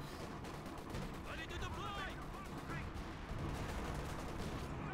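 Howitzer artillery fire in the game Company of Heroes 2 comes as a rapid chain of booms and gunfire bursts under a voice talking over the battle, with the field staying busy and loud throughout.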